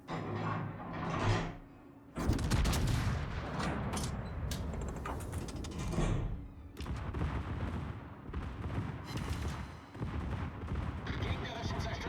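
Secondary guns on the Von Zuckerhoff, a Tier X battleship in World of Warships, fire in rapid, booming volleys, with dense repeated blasts and clanks filling most of the stretch after a brief lull.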